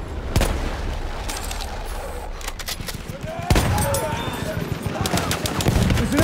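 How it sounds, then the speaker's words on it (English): Battlefield 1 battlefield din with scattered close gunshots and bursts of machine-gun fire, sharp reports popping over a constant rumble of combat while voices shout in the background. "There's an enemy machine gun!"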